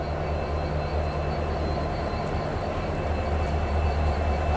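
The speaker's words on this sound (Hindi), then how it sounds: "ये डीजल लोकोमोटिव का साउंड एक बार और आपको करीब से सुनाता हूँ" Diesel locomotive idling up close, a steady loud low rumble with constant engine drone and faint high whine, continuous without pause; Indian railway setting on the Bhubaneswar–Kolkata route.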